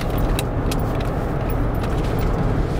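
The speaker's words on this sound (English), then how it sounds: "I hear a little bit of wind noise from the driver's side rear window" Cadillac Escalade cruising on the road, with a constant rumble of road and wind noise from the driver's side rear window filling the cabin evenly throughout, no speech.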